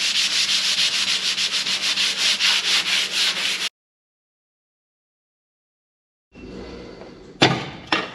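A sponge scrubs rust treatment onto the body of a 1958 Chevy 3100 truck in fast rhythmic rubbing strokes, close and steady for several seconds, then silence followed by clattering handling noises.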